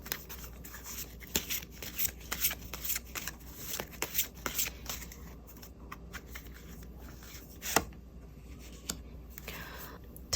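Tarot cards handled and drawn during a reading, soft close shuffling, rubbing and card snaps in scattered bursts over a quiet room, with one sharper flick near the end.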